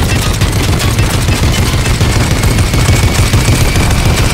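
Sustained turret gunfire in Fortnite, a dense, continuous rattling barrage, loud and close with no break.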